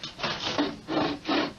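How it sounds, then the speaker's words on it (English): A hand saw cuts through wood in four steady rasping strokes, each stroke a close, moderately loud scrape with short pauses between, no voices. "I'm going to saw a little bit, okay?"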